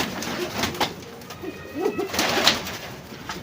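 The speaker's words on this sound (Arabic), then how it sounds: "أول فرد حمام" Domestic pigeons in a loft cooing softly, with several overlapping low coos and rustling amid faint background noise, fairly close and without speech.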